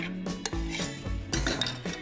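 Dissolved gelatin is poured into cream and worked in with a rubber spatula for a raspberry roll, producing soft scraping and clinking against the bowl in a few uneven strokes, close and quiet, with no talking.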